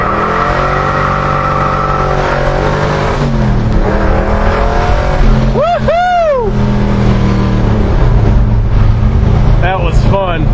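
A 1966 Chevrolet Chevelle SS with a big-block V8 and four-speed launches hard, its loud engine roaring and climbing through rising revs with a sharp swell in the middle, heard close from inside over a steady drone.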